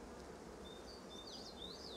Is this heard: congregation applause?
no